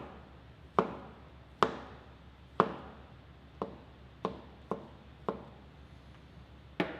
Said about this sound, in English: You can take a mushroom and just slice it up like so